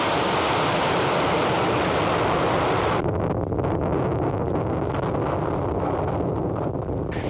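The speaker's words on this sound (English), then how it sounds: "Ignition. And liftoff of Falcon 9." A SpaceX Falcon 9 rocket lifting off on the NROL-48 mission makes a continuous, heavy broadband roar; the hiss softens slightly partway through while the deep rumble stays constant.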